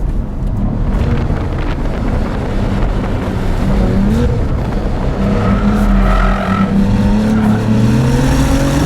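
A 2022 Cadillac CT4-V Blackwing's loud engine roars up and down through the revs, tires squealing as it oversteers at about 95 mph, with heavy wind buffeting the microphone.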